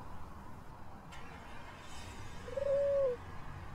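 A pigeon in a parking garage gives a single soft, short coo, faint against a quiet hum of room tone, with a light clatter heard earlier and no voices.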